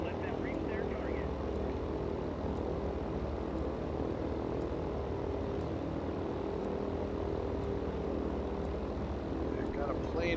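Propeller drone of a Consolidated B-32 Dominator bomber and other warplanes in the World of Warplanes game, a steady loud engine hum running the whole time with faint radio-style chatter over it.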